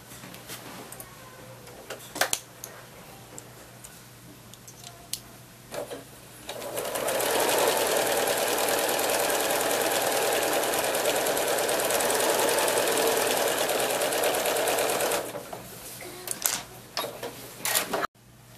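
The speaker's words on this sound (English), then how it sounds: "I'm ready to sew, and just like I said, I'm going to do these sides first." A sewing machine joins quilt block rows in one long, steady, close-up whir of about eight seconds, framed by light clicks and fabric handling before and after.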